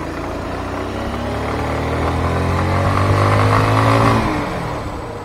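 A Honda Karizma motorcycle accelerates on a test ride, its mid-pitched engine note rising steadily in revs and then easing off, close by and continuous, with no talking.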